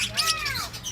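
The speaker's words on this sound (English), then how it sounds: "Mad birds." A bird at Blackpool Zoo gives a single harsh, crow-like caw, close and fairly loud, that rises and falls in under a second against faint background noise.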